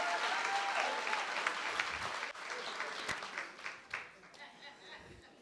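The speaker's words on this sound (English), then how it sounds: "please, let's put our hands together for Zethu from Z Organics Hair Care." Audience applause for a hair care business owner pitching at a township business workshop, a steady broad wash of clapping from a seated crowd that tapers off, with a voice speaking over it.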